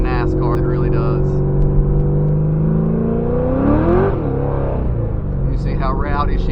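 A Chevrolet C6 Corvette Z06 V8 engine revs up hard from a second-gear pull, its pitch climbing to a sharp peak before dropping, loud and close with continuous engine drone and brief voice-like bursts at the start and end.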